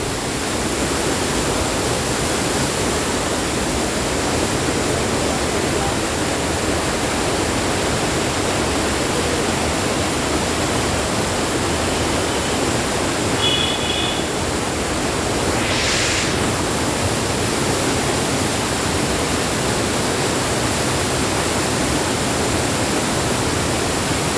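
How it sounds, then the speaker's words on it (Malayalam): Karinkappara waterfall on the Vailathur road, a dense, unbroken rush of falling water, loud and even throughout with a couple of faint brief sounds over it. "കരിങ്കപ്പാറ വെള്ളച്ചാട്ടം പാറയുടെ അരിയിലൊക്കെ വെള്ളച്ചാട്ടം"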